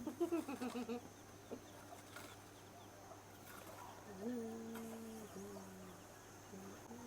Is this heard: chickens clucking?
yes